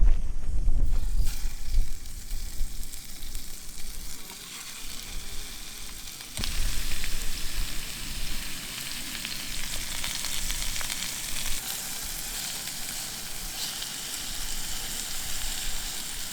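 Venison backstrap from a sika deer stag, cooked rare, sizzling loudly and steadily in a pan at a backcountry camp, a continuous close crackle with slight shifts in intensity.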